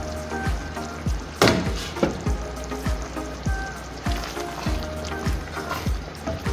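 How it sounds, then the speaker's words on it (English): Filipino spaghetti sauce bubbling in a pan over medium-low heat after ten minutes of covered simmering, a steady close sizzle broken by repeated soft pops and plops as thick bubbles burst. "cover and let it simmer for 10 minutes"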